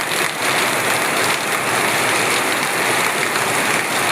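Heavy monsoon rain pours down in Andaman, a dense, steady roar of hiss that stays loud and even throughout, with no voices.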